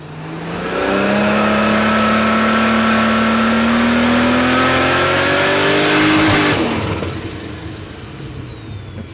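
A boosted Ford 250 Crossflow tractor engine on a dyno revs hard and loud, pitch climbing steadily for several seconds before cutting off sharply and winding down, with no talk over it.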